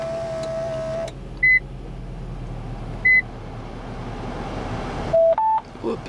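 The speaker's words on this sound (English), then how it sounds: "Ooh, a beep." Short electronic beeps from an RN-52 Bluetooth car media module sound twice over steady car engine and road noise, followed by a quick two-tone chime.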